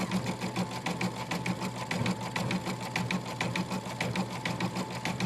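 A Baby Lock Altair 2 embroidery machine stitching at a steady fast rhythm, with a continuous mechanical hum and regular needle taps, close and clear, with no talking.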